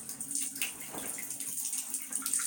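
Water draining from the tub of a Kuppet portable washing machine, a steady close hiss and gurgle with faint trickles, continuous and even throughout.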